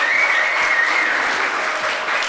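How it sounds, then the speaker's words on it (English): A crowd applauds Brian and Kelly with dense, steady clapping throughout, loud and sustained with no break, at a grand entrance celebration. "Give them a round of applause, thank you."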